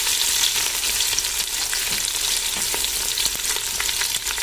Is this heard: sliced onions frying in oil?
yes